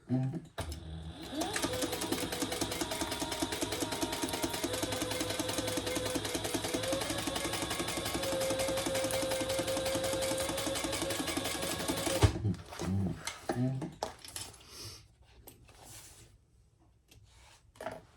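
A sewing machine runs a long continuous seam through fabric for a leather ostrich-trim bag, a steady rapid whir for about twelve seconds before stopping, followed by brief handling clatter.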